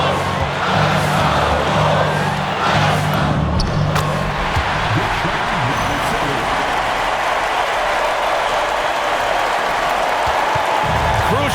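Arena crowd noise at a Bulls vs Spurs basketball game, a steady loud murmur with scattered cheers and whoops and faint ball bounces throughout, sustained without breaks.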